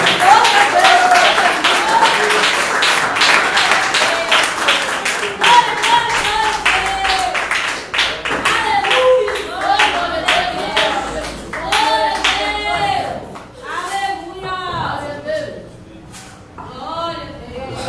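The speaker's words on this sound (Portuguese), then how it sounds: "Então vamos receber o pastor com as palmas em nome do Senhor Jesus." A church congregation claps to welcome the pastor, loud rhythmic hand clapping that starts dense and gradually thins, while voices speak and call out over it throughout.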